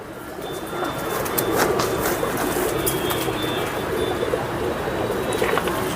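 Pigeons in a pigeon-keeping setup coo and call in soft repeated bursts over a steady outdoor background hum, with a few faint chirps mixed in.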